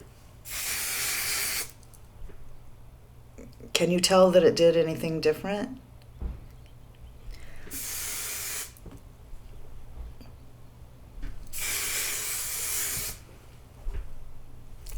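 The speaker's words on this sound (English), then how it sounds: "Let's just spray a section of my hair here." Hair spray hisses from an aerosol can onto hair in three separate bursts of one to two seconds each. The bursts are close and loud, with someone talking between them.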